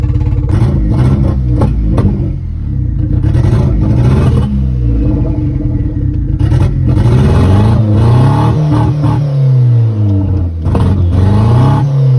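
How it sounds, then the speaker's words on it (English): An Audi B5 wagon engine with a big turbo revs up and down repeatedly, the pitch rising and falling in surges over a steady close-up rumble, with no talking. "It's revving pretty nice."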